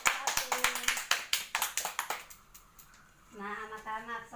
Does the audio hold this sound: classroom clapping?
yes